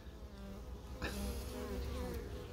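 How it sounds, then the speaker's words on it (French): Honeybees swarm at a hive entrance narrowed by a small reducer strip. Their dense, steady buzzing sounds close, with individual bees whirring past, and no voices. "vous pouvez observer les abeilles faire leurs petits balais"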